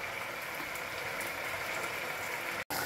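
Arborio risotto simmers in broth with a steady, even bubbling hiss that fills the whole stretch at low volume, broken only by a brief cut near the end.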